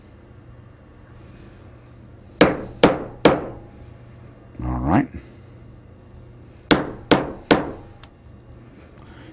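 Sharp metal punch strikes knocking holes through a control panel template, two bursts of three quick loud hits separated by a brief scraping clunk, near and alone apart from a short spoken word.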